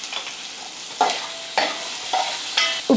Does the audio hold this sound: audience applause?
no